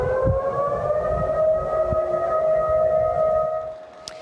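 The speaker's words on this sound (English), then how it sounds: "You hear it there, those sirens going off in the city of Kodiak." A civil defense siren wails in the city of Kodiak, Alaska, steadily with a sustained rising and falling tone, loud and continuous, with faint background rumble and a brief click near the end.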